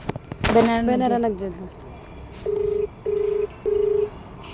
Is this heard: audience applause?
no